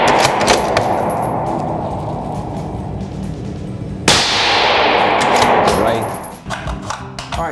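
Rifle shots ring out at an indoor range: a burst of sharp reports at the start, then one loud crack around the middle followed by a long reverberant decay, with metallic ringing in the room.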